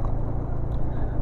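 Motorcycle engine rumbling steadily as the bike rides over a rough, bumpy trail on the way to Sarkawi Semeru, a continuous close low drone throughout the short stretch.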